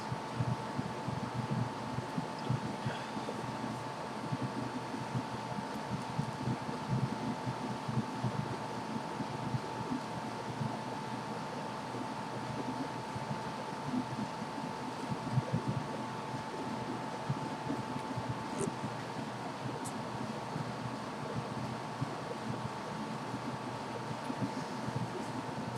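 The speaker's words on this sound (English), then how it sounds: "when you're using the cooler booster, the temperatures are 10-15 degrees cooler, but man, that fan gets loud" The cooling fan of an MSI GT60 gaming laptop runs at high speed, making a loud, steady, broadband whoosh with a faint hum that barely changes for the whole stretch.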